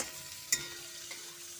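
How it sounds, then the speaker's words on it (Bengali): Onions frying in mustard oil in a wok give a quiet, close sizzle with one sharp utensil clink and a soft scrape, without any voices. "মা ভালো করে পেঁয়াজটাকে ভেজে নিচ্ছে"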